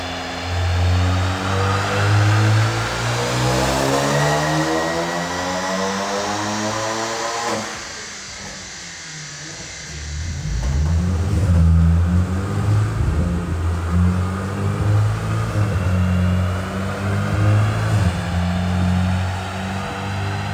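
A modified Volkswagen Golf Variant engine revs hard and close, climbing steadily in pitch, dropping briefly on a gear change, then pulling strongly again under sustained acceleration.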